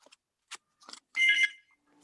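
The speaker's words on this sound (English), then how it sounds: "If you'll just excuse the phone ringing in the background" A telephone rings in the background of a council meeting, with one short burst of ringing tones standing out against near silence.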